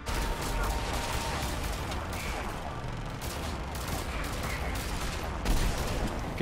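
Dense, continuous gunfire in the video game Mass Effect 3, heavy overlapping shots and explosions forming a loud battle din that never lets up.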